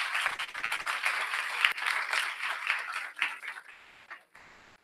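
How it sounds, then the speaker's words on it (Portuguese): Applause for a young participant at a Brazilian youth parliament event, a steady wash of many hands clapping that holds fairly loud for a few seconds, then thins and fades toward the end. "gente, batam palmas para ele"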